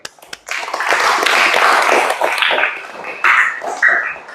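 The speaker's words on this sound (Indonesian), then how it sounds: "Kasih aplaus dulu." A school class applauding together: a burst of hand clapping from many pupils swells, holds steady and then trails off into a few scattered claps.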